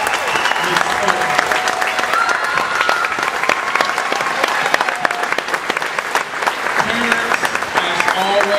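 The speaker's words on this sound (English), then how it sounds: "can we all give a big round of applause for our wonderful director, Ms. Sutton." A school audience applauds its director, Ms. Sutton, with loud, sustained clapping that fills the room, dense and even throughout, with a few voices faintly audible in the crowd.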